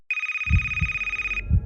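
A telephone rings with one sustained electronic tone that stops after about a second and a half, while low rhythmic thumps pulse underneath and no one speaks.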